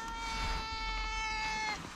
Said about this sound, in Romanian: Ia uite ce plânge pisica.